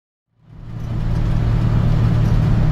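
A 1956 Ford F-100 pickup with a newly replaced steering box starts moving off, its engine rumble rising from silence and then holding a steady, loud, close drone.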